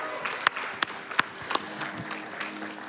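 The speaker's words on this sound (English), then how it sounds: "Can we get one more round of applause, please" Applause from a speedrunning marathon audience at Summer Games Done Quick 2022 after a Perfect Dark run, a fairly quiet wash of clapping with a few sharp, distinct claps standing out over about three seconds.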